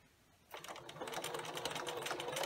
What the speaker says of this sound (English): put it under your sewing machine and use a zigzag stitch